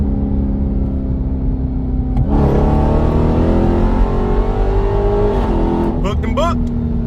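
Car accelerating hard on a concrete highway toward 60 mph during tire testing of Mickey Thompson Street SS tires; a loud, steady engine drone climbs in pitch as it pulls, with wind and road roar throughout.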